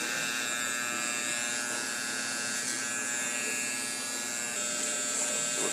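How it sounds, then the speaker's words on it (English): An electric hair trimmer buzzes steadily and close during a haircut, a constant high motor hum with slight changes as it moves through the hair. "With a real light hand, letting the trimmer do the work."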